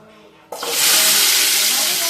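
Onions tipped into hot oil in a pan for home-style biryani, a sudden loud hiss that swells into a steady, bright sizzle and holds.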